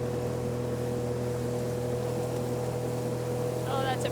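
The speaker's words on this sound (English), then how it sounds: "It is so nice having a powerful engine." A powerful boat engine drones steadily and loudly close by while cruising toward a waterfall along a remote Canadian island, its even hum continuous throughout, with a brief voice near the end.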